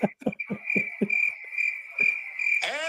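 A steady high cricket trill runs throughout at a wrestling event, with voices talking and muffled thumps underneath, ending in a brief sweeping sound.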